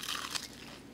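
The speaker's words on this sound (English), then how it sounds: "Let's see how the crunch is." A single crisp bite into a fried chicken wing with a light brown rice flour coating, one sharp close crunch followed by faint chewing.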